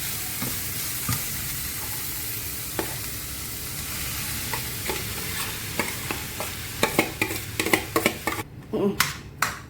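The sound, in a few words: potatoes added to a pan and sizzling, stirred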